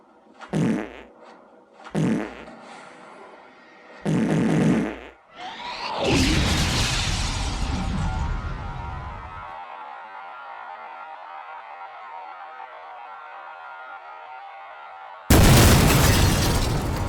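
Explosion sound effects for home runs in The Bigs 2 baseball video game on Xbox: a few loud thumping bursts lead into a big booming blast that rumbles and fades, followed by a sustained roar and then a sudden loud noisy burst.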